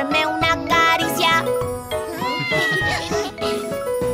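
A children's song in Spanish about a red kitten: a sung voice imitates a cat's meows over and over, loud and close, against bright, jingling music.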